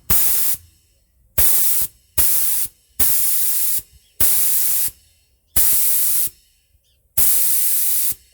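A paint spray gun set under 2 bars of pressure fires sharp bursts of hissing air, seven or eight loud blasts of about half a second to a second each, separated by short quiet gaps.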